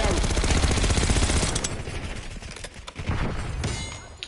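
Automatic weapon fire in Black Ops 6, a long, loud, rapid stream of close shots that thins into scattered bursts and impacts, with a few sharp cracks near the end.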